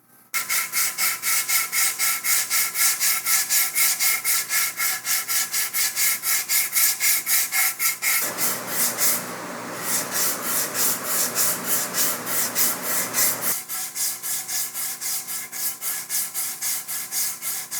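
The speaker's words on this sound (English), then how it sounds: "So I sanded this with 120 to get rid of some of the bumps and divots and stuff." Hand sanding of a wooden guitar body with 120 grit sandpaper, a steady rhythmic rasping of quick back-and-forth strokes, close and loud, with a short stretch of denser, harsher scrubbing in the middle.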